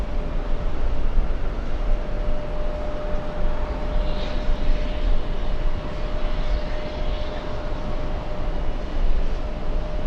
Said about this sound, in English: Let's go for the LL 787 Dreamliner flying in from Tel Aviv